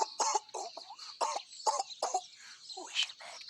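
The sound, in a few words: Tweenies dog character Doodles coughing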